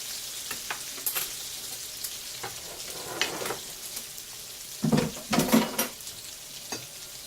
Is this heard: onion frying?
yes